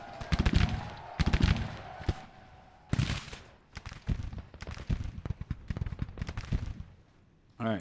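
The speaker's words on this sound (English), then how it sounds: "Stevenson has finally fired his first shots in this battle." Musket and artillery fire crackle through a Civil War battle in Grand Tactician: The Civil War, irregular bursts and volleys rolling across about eight seconds, some sharp and close, others trailing off.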